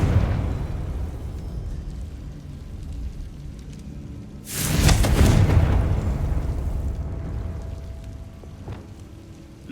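A Confringo blasting spell in Hogwarts Legacy erupts midway in one loud, close explosion with a booming rumble that slowly decays, over a low ambient background.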